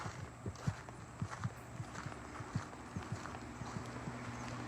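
Horse hooves clip-clop at an unhurried walking pace in a horse barn, a series of crisp close strikes on a hard floor over a low steady hum, with no talking.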